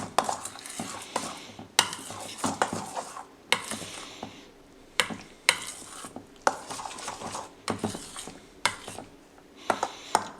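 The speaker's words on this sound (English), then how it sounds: "Stir this up." Parmesan cheese being stirred into a smörgåstårta filling: a spoon scrapes and clinks around a bowl in repeated short bursts separated by brief pauses, close and fairly quiet.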